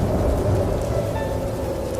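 Heavy rain pours steadily during a thunderstorm near a village on a dark night, a dense, loud wash with a deep low rumble of thunder underneath, no voices.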